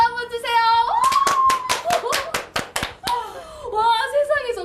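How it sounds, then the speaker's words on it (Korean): An audience at a macrame class gives a brisk round of hand clapping for the teacher, a dozen sharp claps lasting about two seconds, with talking before and after. "선생님 박수 한번 주세요."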